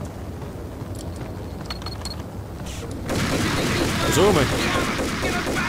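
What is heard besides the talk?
gunfire in video game Max Payne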